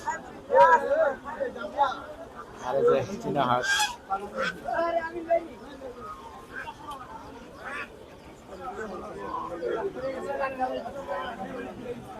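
Geese and ducks, including Chinese geese and common ducks, honking and quacking in a busy poultry market, repeated calls near and mid-distance under a bustle of people talking.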